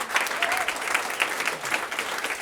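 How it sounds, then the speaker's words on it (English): A conference audience gives a panel on leadership and innovation a round of applause: continuous, full clapping with a faint crowd murmur, steady from start to finish. "can we give a round of applause and appreciation to this incredible panel?"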